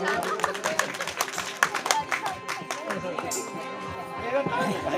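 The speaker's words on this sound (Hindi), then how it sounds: "भाई रामेश जी के लिए जोरदार तालियों से स्वागत।" An audience at a village ceremony claps in welcome, with scattered, uneven claps mixed with crowd chatter and a voice talking over it.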